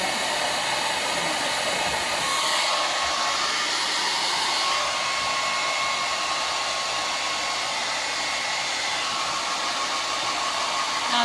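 Blow dryer drying hair, a loud continuous airy whoosh and motor hum held steady from start to finish with no voices.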